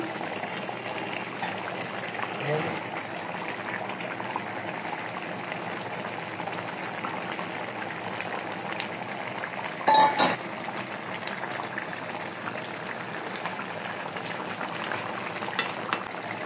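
Bengali hilsa fish curry with beans simmers in a pot, giving a steady low bubbling and hiss throughout, with a brief clink of a utensil partway through.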